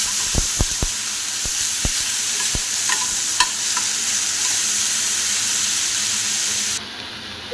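Ground onion paste frying in hot oil for katla kalia, a continuous loud sizzle with several sharp stirring knocks of a utensil against the pan early on, then a sudden drop in level near the end.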